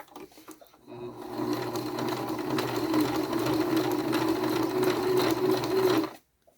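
A sewing machine stitches steadily while quilting around the printed pattern of small fabric pieces, a continuous close mechanical whir that starts after a second of quiet and cuts off cleanly near the end.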